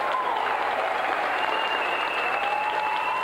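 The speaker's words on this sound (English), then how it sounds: "let's have a round of applause again for our gallant loser, Aidan Smith." Steady applause from a TV game show studio audience fills the clip, dense and continuous clapping without a break or any voices.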